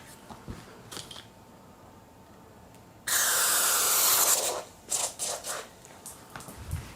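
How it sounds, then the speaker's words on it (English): A steady aerosol hiss of one-step cleaner lubricant floods the shifters of a Marin Stenson road bike for about a second and a half, followed by a few shorter clicks and rustles of handling. "Basically just flood them with this lubricant, so one step cleaner lubricant I like to use."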